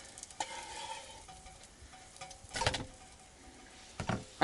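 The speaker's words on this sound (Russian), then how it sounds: "Пошли первые прожаренные. с обеих сторон." Burbot fish frying in a pan at a taiga camp in winter, a soft steady sizzle with faint crackles and a few louder clinks and stirring bursts, fairly quiet and with no voices.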